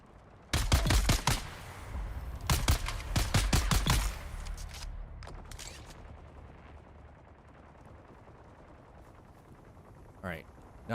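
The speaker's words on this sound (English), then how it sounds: "Seems to be an awful lot of shooting going on." Bursts of automatic gunfire crack across a Dune: Awakening battlefield, with dense volleys in the first four seconds that fade to distant ambience and a few faint shots later.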